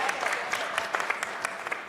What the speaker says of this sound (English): Clap for the guy.